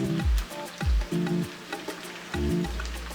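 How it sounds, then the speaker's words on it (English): Carrots dropped into a hot pan for Ghana spaghetti set off a steady, close sizzle, punctuated by a few repeated scraping strokes of a spoon or spatula stirring through the pan. "So at this point, guys, I'm going to add my carrots."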